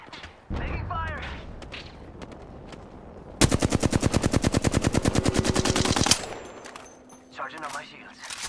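Rapid automatic gunfire in a shooter video game, a sustained burst of about three seconds of evenly spaced shots, preceded and followed by softer game effects and a player speaking.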